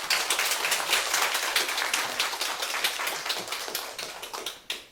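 Church congregation at a revival service claps to welcome a pastor, a dense, loud, continuous patter of many hands that fades away at the end.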